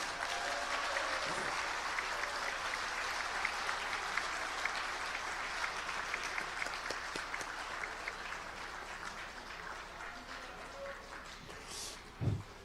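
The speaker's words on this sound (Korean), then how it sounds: "큰 박수 한번 해주시기 바랍니다." Sustained applause fills a hotel hall at a rally of national security civic groups, a broad, even wash of clapping that slowly tapers, with a brief louder burst near the end.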